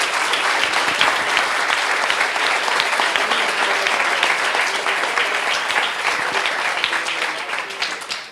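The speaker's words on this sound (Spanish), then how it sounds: "Quiero pedir un último fuerte aplauso para los panelistas" Loud, sustained applause from an audience for the panelists at a youth-in-politics forum, dense even clapping holding steady for several seconds before tapering at the very end.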